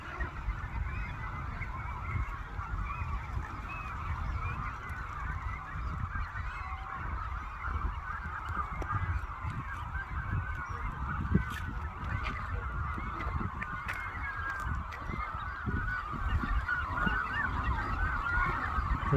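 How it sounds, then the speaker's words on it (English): A large flock of geese honks continuously outside Alcatraz, a dense overlapping chorus of calls at moderate distance over steady outdoor rumble. "Look at all these birds."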